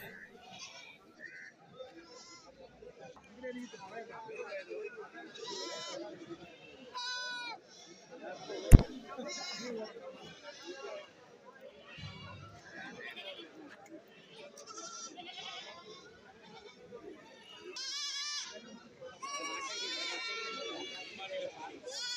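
Young goats, including Beetal kids, bleat again and again at a busy goat market. The cries are near and far, under steady talk and crowd noise, with one sharp knock partway through.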